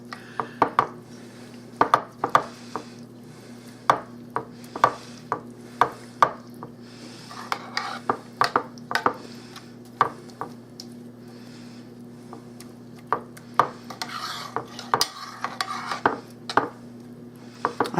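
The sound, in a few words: mixing baked beans ingredients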